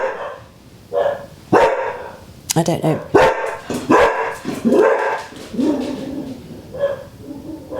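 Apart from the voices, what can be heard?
dogs barking in the front room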